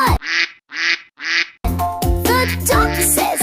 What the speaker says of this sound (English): The duck says quack.